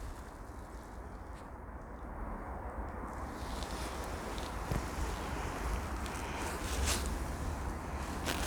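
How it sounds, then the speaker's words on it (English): Steady wind rushes through snow-laden tree branches outdoors, a continuous broadband roar that swells slightly after a few seconds with faint gusty rustles, no voices. "I see the wind blowing all the branches."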